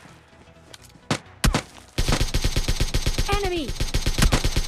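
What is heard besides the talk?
gunfire from a bot in PUBG Mobile Lite, video game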